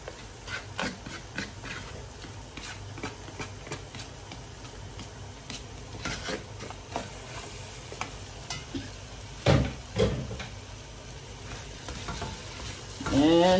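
Chopped okra being stirred into a fish stew in a pot, with a steady scraping, clinking stir and a soft sizzle underneath running throughout, louder bumps of the spoon near the middle and end.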